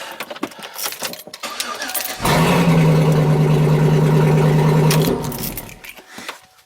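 A 2008 GMC Sierra 1500 pickup with open straight headers running right from the manifold starts up close by and runs loud and rough for about three seconds, then shuts off.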